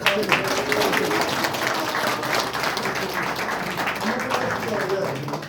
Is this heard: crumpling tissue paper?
no